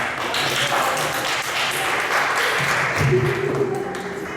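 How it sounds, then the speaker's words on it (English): A large workshop audience at a Moodle teaching training session applauds steadily for a lecturer, with dense clapping that holds across the whole stretch, while voices murmur and talk faintly underneath. "please give him a big round of applause"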